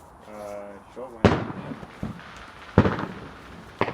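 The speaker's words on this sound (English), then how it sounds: "you can see the fireworks" Bonfire night fireworks bang sharply three times at intervals, each burst crackling briefly before fading, with voices chatting between the explosions.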